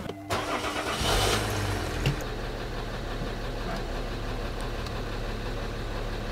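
A Citroën C6 car engine cranks and catches during a roadworthiness inspection, then settles into a steady low idle that runs throughout, close by and fairly loud, with no talking.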